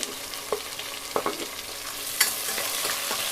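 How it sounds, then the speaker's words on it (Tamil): Long-sliced onions fry in hot oil in a pressure cooker for mutton biryani, a continuous close sizzle broken by a few sharp clinks and scrapes of stirring, with no voices. "வெங்காயம் நல்லா ப்ரௌனிஷாக மாறி வரணுங்க, அது வரைக்கும் வதக்கிக்கலாம்"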